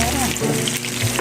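Fish frying in hot oil, a dense close-up crackle with sharp pops, and faint speech mixed in underneath.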